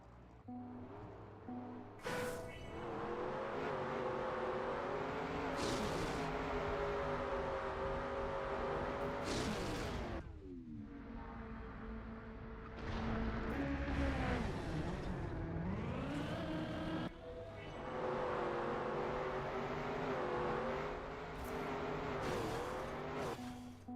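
Desert car in Trackmania racing with a high, whining engine that rises and falls through gear changes, tires squealing and skidding through corners, loud and continuous with brief gaps and no talk.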